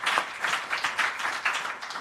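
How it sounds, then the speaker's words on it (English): An audience applauds the mayor at a cities-focused conference, giving two seconds of steady, moderately distant clapping with an uneven rhythm and no voices over it. "we all owe the mayor a round of applause for everything that did happen"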